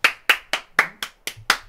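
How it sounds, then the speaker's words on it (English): Seven sharp hand claps at a steady, slightly uneven rhythm, each a crisp slap with a short decay, close and clear with no talking. "Everybody clap now"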